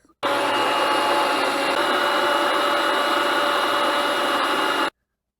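Wet grinder grinding soaked idli rice into batter, a steady close whirring roar running unbroken for about five seconds and then cutting off abruptly.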